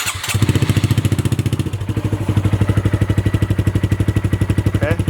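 Honda Grom motorcycle with a full exhaust and the baffle installed, idling steadily close by with a fast, even putter that stays loud and regular throughout.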